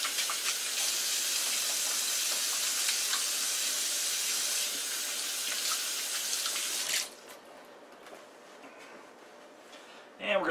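A kitchen tap runs steadily for hand washing, a close, bright hiss of flowing water that stops abruptly partway through, leaving faint handling sounds and a brief clatter at the end.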